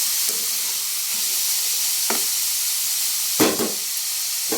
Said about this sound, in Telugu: ఈ విధంగా కలుపుకుంటూ ఫ్రై చేయాలండి.